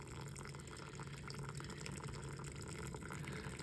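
Water trickles and flows steadily along the curved channel of a small stream erosion model, a quiet, continuous liquid wash with no talking.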